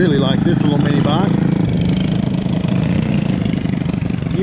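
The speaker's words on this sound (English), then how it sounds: "I really like this little mini bike." A small mini bike engine runs steadily at close range, a continuous buzzing drone with a faint voice sounding over it near the beginning.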